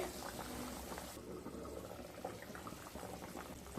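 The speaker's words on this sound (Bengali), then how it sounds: "ঝোলটা ফুটে আসা পর্যন্ত অপেক্ষা করব। ঝোলটা ফুটে এসছে" Fish curry broth for a Bengali kason pora jhol bubbling in a pot, a steady close simmer with soft popping and gurgling throughout, no talking.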